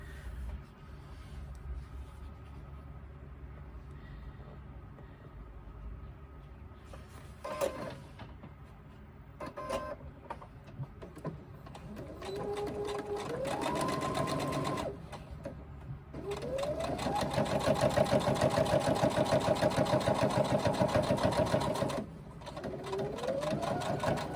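A sewing machine stitches a crossbody bag, running in several bursts that rise and fall in speed, with longer steady runs toward the end and short pauses between.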